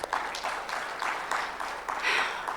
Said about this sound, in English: may we please give him another warm round of applause